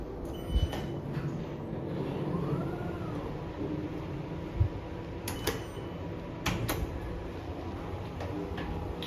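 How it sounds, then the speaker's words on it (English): Sliding doors of a Schindler 5500 MRL traction lift run along their tracks, a low rumbling glide under a steady hum, with several sharp clicks and knocks spaced through it, moderately loud and close. "Schindler door tracks."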